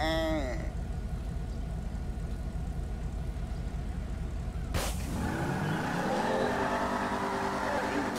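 Engine of an SRT Demon drag-racing in GTA with mods, a steady loud rumbling drone, then a sharp burst and a rising high-revving roar with screeching tires as the car launches.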